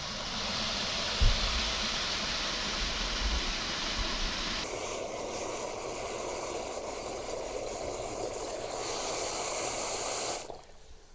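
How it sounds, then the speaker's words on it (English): Tap water pours into a container for a homemade garden fertilizer mix, a steady hissing gush that changes tone after a few seconds as the container fills, then cuts off near the end. "I'm going to add in the tap water."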